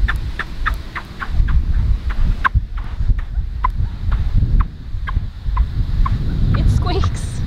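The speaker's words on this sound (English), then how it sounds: "It squeaks. It squeaks when you walk." Very fine beach sand at Topsail Hill Preserve State Park on Florida's Emerald Coast squeaks underfoot, a steady series of short, sharp chirps about two per second with each walking step, heard up close over low wind rumble.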